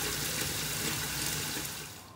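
Water running steadily from an RV tap after a ShurFlo water pump repair on a converted bus, a continuous broadband rush that stays loud and close before easing slightly at the end.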